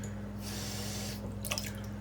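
A tablespoon of water goes into eggs for a bagel, making a brief soft trickle and splash that is faint and close, with a low hum underneath and no talking.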